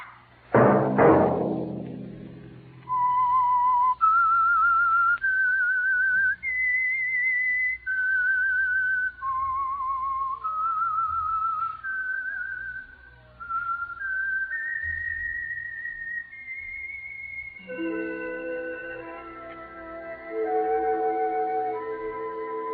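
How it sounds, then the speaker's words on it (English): A clear, melodic tune whistled alone, the signature whistle of the 1947 radio drama The Whistler, with sustained notes stepping up and down, followed at the end by a few notes of accompanying music. "Let that whistle be your signal for the Whistler"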